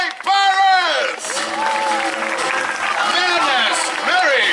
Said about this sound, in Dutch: Een oorverdovend applaus voor mijn 6 beste piraten.